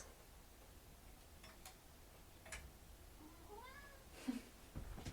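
A cat gives a soft, short meow over a quiet, hissy room background, faint and fairly close, with a few small clicks and no talking.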